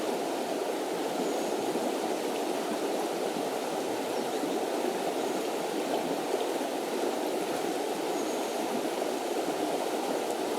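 The Dourbie river in the Tarn flows in a steady, even rush of water, continuous and fairly close, with no voices over it.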